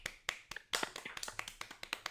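A single person's hands clap in a quick, slightly uneven burst of about a dozen sharp slaps, close and faint, with no talk.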